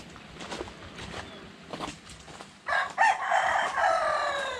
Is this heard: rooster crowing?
yes